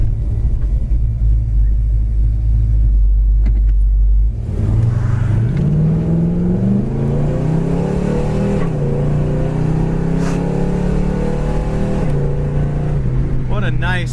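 A 1971 Chevelle Heavy Chevy V8 idles with a deep rumble, then accelerates hard with a rising roar through a firm shift and tire chirp, heard from inside the car with someone talking over it.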